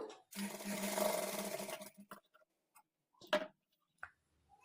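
A sewing machine runs in one steady burst for about two seconds, stitching thread piping across folded cloth with a normal foot, followed by a few faint clicks and handling taps.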